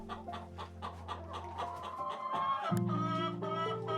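Hens cluck in a series of soft, close calls, one rising into a louder, drawn-out squawk near the end, with no talking over them.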